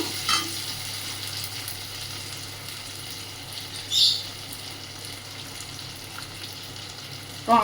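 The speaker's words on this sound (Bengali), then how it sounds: "ভালো করে ভেজে নেবো গ্যাসটা লো ফ্লেমে করে দিলাম" Food with ginger paste frying in a pan on a low flame gives a steady soft sizzle and hiss, close and continuous, broken by a few brief clinks of a stirring utensil.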